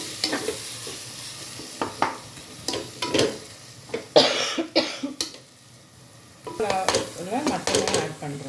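Masala sizzles in hot oil in a pan while a spoon stirs and scrapes it in quick repeated strokes, close and clear, with no talking.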